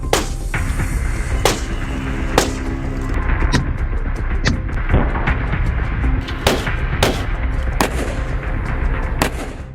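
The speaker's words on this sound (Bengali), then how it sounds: "শেখ হাসিনার একই মডেলের মার্সিডিজ গাড়িতে পরীক্ষামূলকভাবে গুলি করার একটি ভিডিও দেখলেই বোঝা যাবে।" Gunshots are fired at a bulletproof Mercedes car in a test, a rapid series of sharp, loud cracks at irregular intervals over a rumbling background, with no talk.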